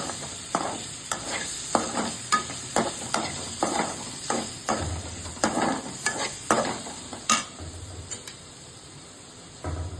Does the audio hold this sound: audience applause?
no